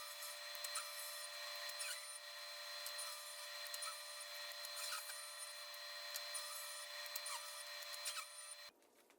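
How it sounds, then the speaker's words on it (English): A saw rips 2x4 lumber lengthwise into strips just under one inch wide, a steady loud whine of the running blade with cutting noise throughout, cutting off abruptly near the end. "Again, I'm ripping these down to a little bit under 1 inch."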